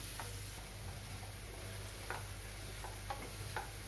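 A soft, steady sizzle of banana pieces frying in hot ghee, broken by a few faint ticks and clicks of stirring.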